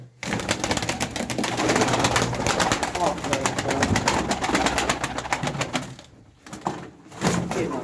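Pigeons kept by a breeder coo amid steady close rustling and clattering from the loft, with someone talking over most of it.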